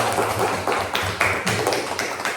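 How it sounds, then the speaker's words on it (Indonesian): Classroom of sixth-grade students clapping for a classmate, a burst of crisp, uneven handclaps close by, rising and falling in a few quick waves over a couple of seconds. "tepuk tangan untuk Pojan"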